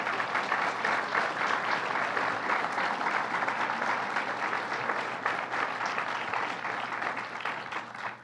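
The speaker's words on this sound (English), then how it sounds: "I want to give them a round of applause." An audience gives a sustained round of applause for organized labor workers at a government ceremony marking the completion of a transit hub. The dense, even clapping fills the space and tapers slightly near the end.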